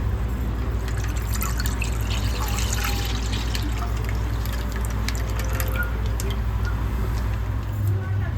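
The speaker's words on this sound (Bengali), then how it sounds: "দুধটা আমি পুরোটা ঢেলে নিয়েছি" One litre of milk is poured into a cooking pan in a home kitchen, a continuous soft liquid trickle over a low steady hum, with a voice speaking at times.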